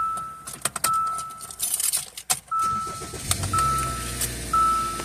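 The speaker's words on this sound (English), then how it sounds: "So let's go ahead and turn the car on." Keys jangle as a Hyundai Santa Fe is started, with clinking metal, a few chime tones and a low engine rumble settling in toward the end, close and fairly quiet.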